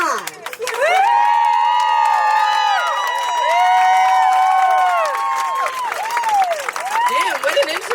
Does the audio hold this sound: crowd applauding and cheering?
yes